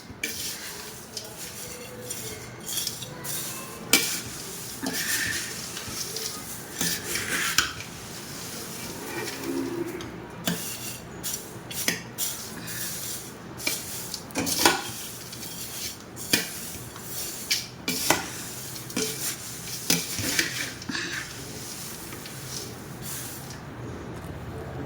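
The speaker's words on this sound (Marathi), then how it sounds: "अशा प्रकारे मस्त मिक्स करून घ्यायचे आहे आपल्याला, म्हणजे सर्व मसाला सर्व चिवड्याला लागेल." Thin poha chivda being tossed and stirred with spices in a pan, giving a steady dry rustle and scrape broken by sharp metallic clinks, close and continuous, no talking.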